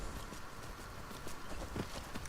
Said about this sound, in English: Arvak. Don't mind me. I'm just riding a scary skeleton horse.